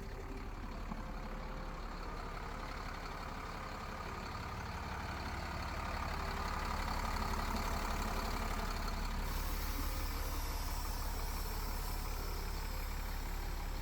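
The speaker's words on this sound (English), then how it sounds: "so you're going to see the engine and hear it." A 1999 Newmar Dutch Star 3858 diesel pusher motorhome's engine idles close by with a steady low rumble, growing slightly louder partway through, with no talking.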